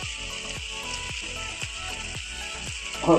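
Ground cumin and other spices frying in hot oil with tomato for a Bengali egg curry, a loud continuous sizzle with regular scraping stirs of a spoon in the pan.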